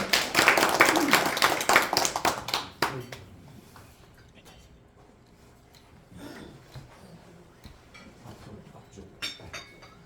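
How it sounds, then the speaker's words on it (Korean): Loud audience applause at a CEO forum lecture welcoming a speaker, dense clapping for about three seconds that then stops, leaving a quiet room with faint scattered sounds. "큰 박수로 모시겠습니다"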